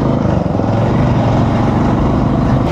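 A motorcycle in motion, picked up through a DJI Mic Mini: a constant dense rumble of engine and rushing air, loud and even from start to finish, with no voices.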